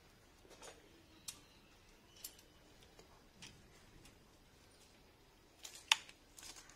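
Pruning shears snip through a sun-burnt, dried rose branch in a pot: a handful of sharp, quiet clicks spaced over several seconds, ending with a slightly louder snap, close and otherwise quiet.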